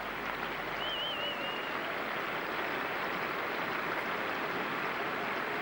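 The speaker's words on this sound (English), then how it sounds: "The crowd know it, they applaud." A crowd at an England v New Zealand cricket Test match at Edgbaston gives steady, distant applause. The clapping blends into a continuous wash that holds level for several seconds, with no voices on top.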